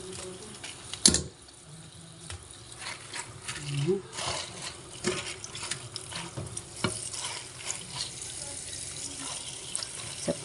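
Tap water runs into a sink while beef is washed, a steady close splashing with clunks and knocks from handling, and a voice talking faintly underneath.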